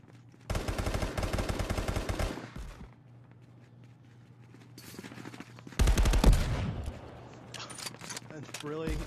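A sniper rifle in a VR multiplayer gun game fires in two loud, close runs of rapid shots separated by a quieter stretch, with a voice talking in between.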